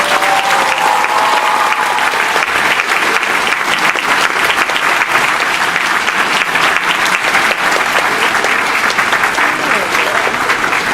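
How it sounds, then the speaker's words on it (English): A convention audience gives the actors loud, sustained applause, a thick wash of clapping from a large crowd, with faint voices and a brief whoop near the start. "give a big round of applause to our actors."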